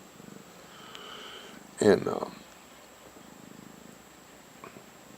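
A house cat purrs softly and steadily close by, briefly masked by a louder burst of noise and a person speaking.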